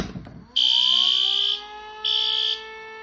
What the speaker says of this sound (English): let's silence one of the alarms